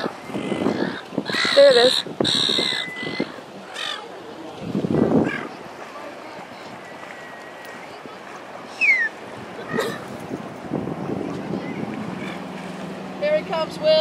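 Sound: bird calling

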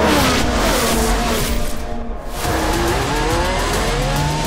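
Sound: race cars overtaking in F1 Manager 2023 video game

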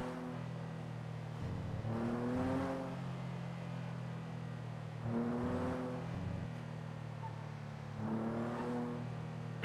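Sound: rental car driving in video game GTA V NoPixel

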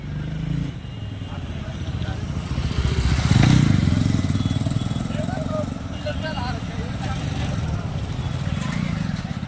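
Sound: motorcycles crossing the Multania bridge in Bathinda

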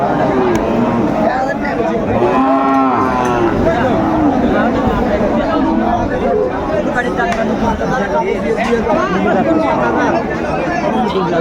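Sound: cows at a cattle market

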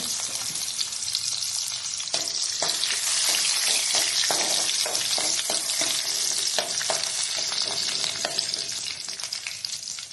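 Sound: garlic and green chilli frying in oil

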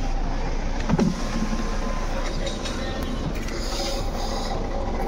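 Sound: Jeep Compass engine compartment noise, alternator pulley

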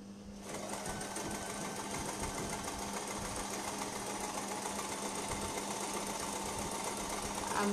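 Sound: sewing machine stitching a baby frock

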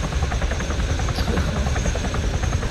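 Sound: helicopter flying in video game ArmA 3

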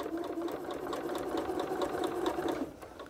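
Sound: sewing machine stitching quilt pieces

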